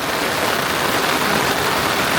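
Rain pours steadily in a dense, even hiss close by, with no talking and no pauses in the downpour.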